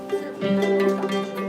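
Unmuted ukulele strings plucked with the thumb, ringing out with sustained tones over a short stretch, close and clear with no talking.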